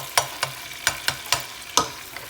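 Tomato and chili pepper frying for Creole spaghetti with chicken under a steady sizzle, while a spoon strikes the pan in a roughly regular run of six or seven sharp knocks and scrapes.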